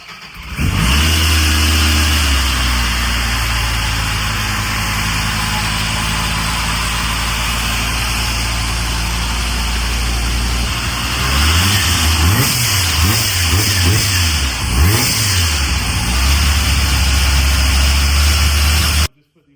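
A tuned Dodge SRT engine starts with a loud burst and settles into a heavy, steady idle, then several sharp throttle blips rev it up and down near the end, with people talking faintly underneath.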